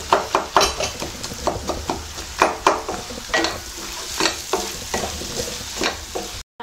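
Chopped amla (gooseberries) stirred and sautéing in a pan for pickle, with repeated spoon scrapes and knocks against the pan over a steady sizzle, fairly close and with no talking.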